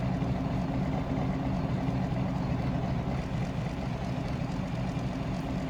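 Holden V8 race car engine heard from the cockpit in GRID Autosport, a continuous low idling rumble with a steady fine tapping texture, close and even throughout, no voices.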